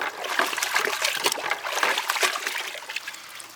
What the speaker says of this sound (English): you're just going to give that a good rinse